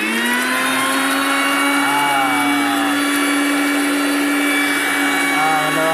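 An electric mixer grinder blends mulberry juice, a loud, steady high-pitched whir that runs unbroken for the whole stretch, its tone shifting slightly as the load changes.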